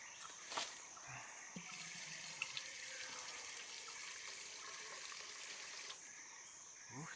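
Water runs in a steady, quiet hiss and splash, continuing without a break, with a few small clicks and knocks near the start and end.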